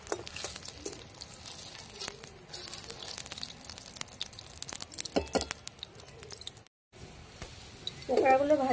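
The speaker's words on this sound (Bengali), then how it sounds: "পকোড়াগুলো ভাজা হয়ে গেল চিংড়ি মাছে, এবার তুলে নিচ্ছি" Prawn pakoras frying in hot oil over a low flame: a soft, continuous sizzle with occasional clinks and scrapes, a brief silent gap, then a brighter burst of frying near the end.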